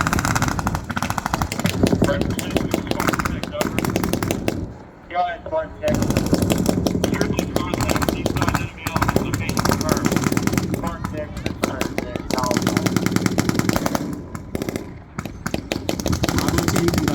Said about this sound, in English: The Stryker will remain in an overwatch position with the support by fire to suppress the enemy with the 50 caliber M2A1 machine gun.